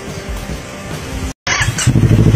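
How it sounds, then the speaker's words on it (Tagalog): A Kawasaki Z400 with a Yoshimura R77 slip-on exhaust revving close by: a steady idle drone, a short cut-out, then a sharp throttle blip rising into a louder, throaty rev. "Yoshimura R77. So sound check tayo guys."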